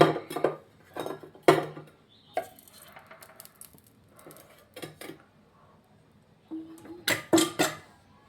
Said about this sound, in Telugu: దీనికి ముందుగా స్టవ్ మీద ప్యాన్ పెట్టుకొని దానిలోకి తగినంత ఆయిల్ పోసుకోవాలి.